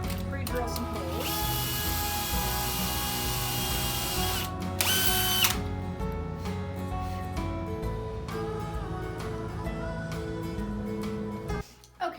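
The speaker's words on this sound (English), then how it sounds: "Pre-drill some holes." A power drill pre-drills holes in wood, running in sustained bursts close by, whining steadily between brief pauses, with some mechanical rattling underneath.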